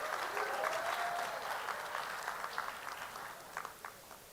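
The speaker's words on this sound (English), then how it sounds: "Everybody, round of applause for Ladies Meta Soccer." Audience applause at a live presentation event, dense clapping from a crowd that starts full and gradually thins out, individual claps becoming more distinct as it fades.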